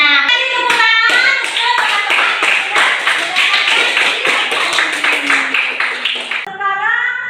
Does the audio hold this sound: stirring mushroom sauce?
no